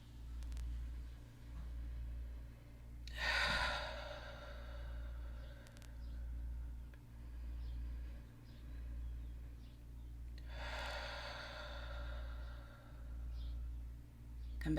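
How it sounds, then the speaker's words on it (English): Two slow, soft breaths during a yoga session, each a brief airy exhale several seconds apart over a steady low hum, with no talking. "Inhale and exhale"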